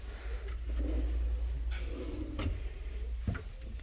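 Kitchen cabinet drawers in a showroom slide open and shut, giving a few soft thuds and rolling clicks over a steady low hum of store background, close by and with no talk.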